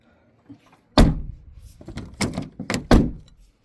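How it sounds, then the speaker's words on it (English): The fuel flap door on a VW Transporter T5/T6 van is pushed shut with a solid thunk, followed by several more close clicks and knocks as it is pressed and tested. "I'm just gonna close the door and try."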